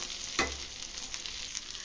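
Chili, ginger and garlic roasting in a pan with onion, a steady close crackling sizzle interrupted early by one sharp clatter of a utensil, then stirring noise continuing evenly.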